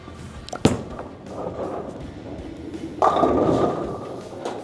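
A bowling ball with a short 5-inch pin layout is released onto a bowling center lane with a sharp thud, then rolls as a steady rumble that swells louder toward the end.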